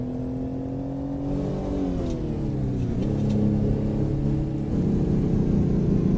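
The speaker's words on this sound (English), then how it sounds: "Rev them out." The Detroit Diesel engine of a Mack RS700 truck in American Truck Simulator revs up in a steady, droning climb, dips briefly, then rises again, loud and close with no talking.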